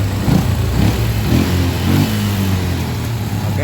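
A Yamaha Jupiter MX motorcycle engine keeps running steadily after the ignition is switched off, a close, continuous low idle rumble with a few small swells and no voices.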